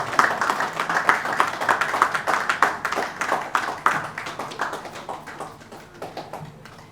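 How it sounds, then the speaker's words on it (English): An audience at an evening event applauds to welcome a speaker, dense rapid clapping close and loud at first, then gradually thinning and fading over several seconds, with no speech. "Please, let's give him a round of applause."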